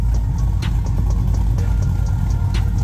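A car engine fitted with aggressive camshafts runs steadily and loud, a constant low rumble with a choppy, lopey pulse throughout.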